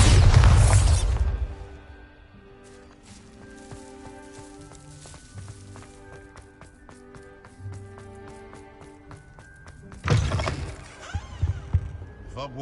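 A Bombarda blasting spell in Hogwarts Legacy goes off with a loud booming burst at the start, then debris and mechanical rattling settle over ringing tones before a second heavy blast near the end.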